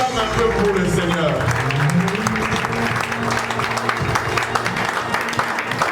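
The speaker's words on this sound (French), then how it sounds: "Acclame un peu pour le Seigneur." A church congregation claps for the Lord in a steady, continuous round of applause, with a voice speaking loudly over the clapping throughout.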